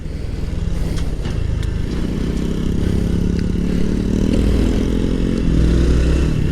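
A Honda Trail 125 motorcycle rides through a neighborhood, its engine droning steadily and loudly up close with a rough clattering rumble that rises slightly toward the end.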